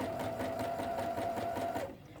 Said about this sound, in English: I'm just going to gently move this around in my sewing machine.